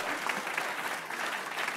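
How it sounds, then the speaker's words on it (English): Applause from an award-ceremony audience honouring a 108-year-old woman, a steady, dense wash of clapping that holds evenly throughout at moderate distance. "That's worth a clap"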